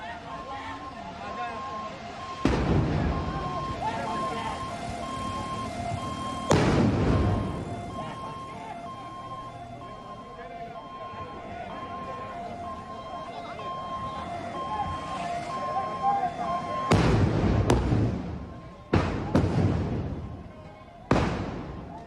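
Several sharp, loud gas cylinder explosions go off in Dharavi, Mumbai, amid a steady outdoor rumble, two early and a rapid cluster near the end, with background voices throughout.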